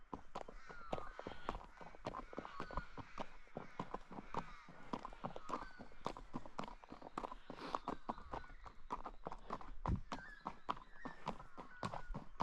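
Shod horses walk along a trail in the Snowy Mountains, their hooves clip-clopping in a dense, overlapping rhythm of sharp knocks, with faint voices underneath.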